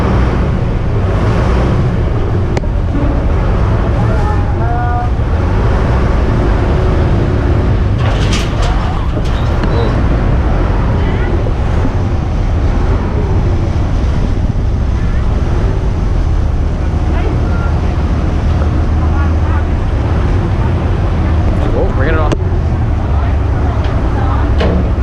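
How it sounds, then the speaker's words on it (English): Waves beside a pier in Bangkok, heard as a steady, loud wash of water mixed with heavy wind buffeting the microphone, continuous throughout with a few faint voices in the background. "Waves as we're walking off"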